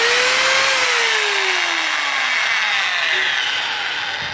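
Bosch GWS 600 angle grinder running steadily at close range, a loud continuous high-pitched whine with a gliding tone that drops slightly as the motor settles, heard alone without talk.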